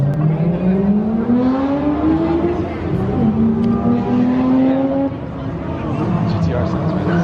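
A Nissan GT-R at a Hiroshima car meet drives close by with a loud, sustained engine drone that climbs in pitch as it revs, eases briefly, then pulls again, with voices faintly in the background.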